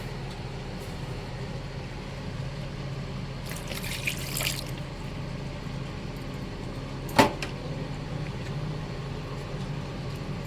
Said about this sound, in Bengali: এবারে এটাকে পানি দিয়ে ভালোভাবে ধুয়ে নেব